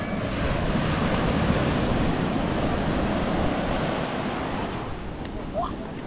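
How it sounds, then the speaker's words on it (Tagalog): Ocean surf breaking on the beach at La Union, a continuous broad wash of rolling waves with wind buffeting the microphone. "Taas ng alon, oh."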